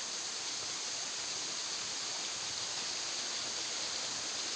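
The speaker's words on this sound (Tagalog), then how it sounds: "Itong falls dito sa amin, Idol Japper." A waterfall at a local falls pours out a steady, dense hiss of rushing water, constant and fairly close throughout with no breaks or other sounds.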